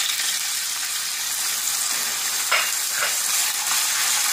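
Chicken pieces fry in hot oil in a pan, a steady loud sizzle with a few brief bursts of stirring, close and without speech.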